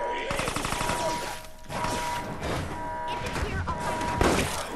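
In the video game Resident Evil Resistance, shotgun blasts fire as a burst of sharp, loud reports, followed by more impacts amid in-game action, with a voice talking over it.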